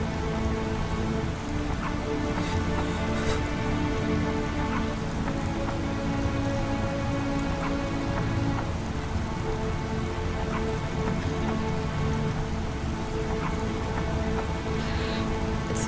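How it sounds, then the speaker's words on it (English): Steady rain falls on a surface, a dense, even patter of drops that continues unbroken throughout, close and moderately loud, with no voices. "I remember the rain."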